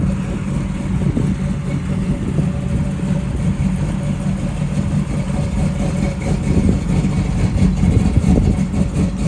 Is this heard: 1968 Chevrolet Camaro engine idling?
yes